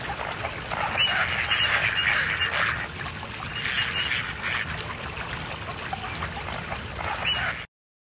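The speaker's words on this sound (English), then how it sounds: "Six ducklings swimming free." Ducklings paddle along in a grade-one math cartoon while a duck quacks over steady, fairly loud cartoon water ambience for about eight seconds, with no talking.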